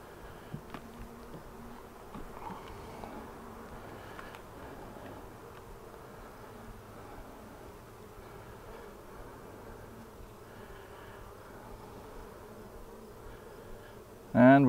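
Honey bees on a hive comb give off a faint, steady, low buzzing hum throughout, with a brief louder rustle at the very end.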